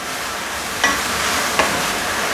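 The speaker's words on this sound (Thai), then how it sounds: "ให้เราผัดจนน้ำมันแห้งนะครับแล้วก็ผักนิ่มนะครับ" Spring roll vegetable filling stir-fried in oil in a pan, a constant close sizzle with two short scraping clicks of the spatula.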